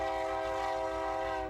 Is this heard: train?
yes